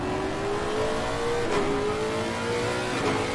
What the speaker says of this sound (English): Man, that thing sounds like a massive car.